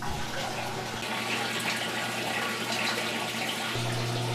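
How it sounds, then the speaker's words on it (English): Water pumped out of an aquarium's wet-dry trickle filter, a steady, moderately quiet rushing and gurgling flow over a low motor hum that shifts in pitch near the end. "I'm going to pump the wet-dry trickle filter empty of as much water as possible"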